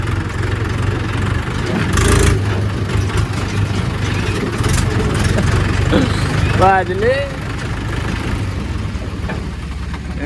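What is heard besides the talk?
tractor engine idling at a brick kiln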